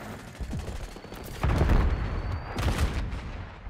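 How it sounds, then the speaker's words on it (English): PM Makarov pistol firing rapidly in Call of Duty: Black Ops 6, short quick bursts of close gunshots in two clusters, fairly loud, with no talking. "Why did that shoot like a machine gun?"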